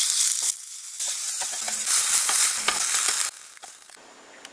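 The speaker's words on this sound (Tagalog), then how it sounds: "Lutuin lang natin itong ating mga chicken na hiniwa natin ng maliliit kanina" Small chopped chicken pieces cook in a pan with a loud, bright hissing sizzle that rises and dips in bursts as the pieces are stirred, then drops sharply quieter near the end; no voices.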